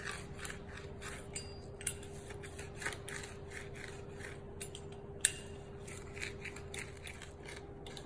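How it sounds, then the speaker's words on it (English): Pizza cutter rolling through fresh spinach on a cutting board, a run of soft, quiet crisp rasps and crunches repeating irregularly, with one sharper snap near the end over a faint steady hum. "we're gonna use a pizza cutter to cut the spinach"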